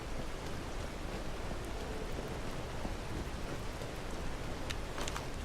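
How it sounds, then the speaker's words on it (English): Heavy rain falls at night under a clear sky and a nearly full moon, a loud, steady, unbroken hiss of drops, with no voices over it. "This is a lot of rain for a clear sky and a nearly full moon."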